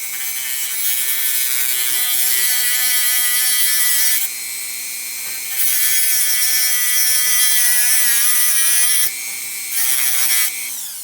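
A small power tool grinds into an installed emergency brake cable, its loud high-pitched whine running in long bursts with brief pauses between cuts, close up.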